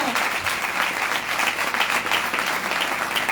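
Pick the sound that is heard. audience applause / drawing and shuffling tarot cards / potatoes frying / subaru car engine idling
audience applause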